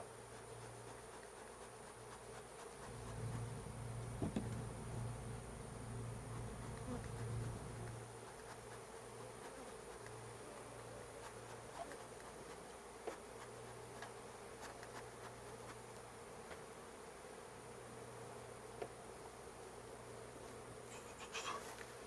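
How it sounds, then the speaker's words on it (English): Honeybees drone in a continuous low buzz around a heavy, bee-packed hive box cut from a Brazilian pepper tree, steady throughout the clip with faint outdoor background and no voices. "This is the heaviest box I've got, and it is loaded with bees."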